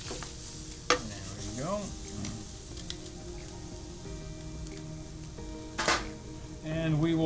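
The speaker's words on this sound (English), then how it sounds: "I'm using a dry saute pan. The salmon in itself will release its natural oils. Put that away. That's going to sear." Salmon fillet searing in a dry sauté pan in its own released oils, a steady low sizzle running throughout with a few sharp clinks and scrapes of a utensil, and a brief spoken remark partway through.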